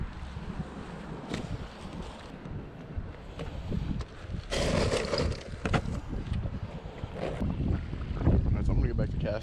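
Wind gusts and buffets the microphone outdoors during a fishing trip, a rough low rushing that swells and fades, then grows stronger toward the end.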